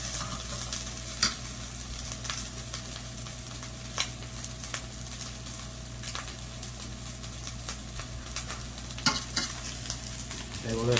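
Fried rice with bacon is stirred around an oiled pan, giving a steady close sizzle with occasional soft scrapes and taps of the utensil, fairly quiet and with no talking.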